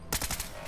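A gas rifle fires in Fallout 4, a quick rapid burst of several hissing shots in close succession, brief and fairly near.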